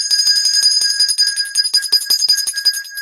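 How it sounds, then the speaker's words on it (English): The Ed Norton Honeymooners bell sound effect rings loudly and rapidly, a bright metallic trill of quick repeated strikes sustained for a few seconds without talk. "That's the Ed Norton Honeymooners bell."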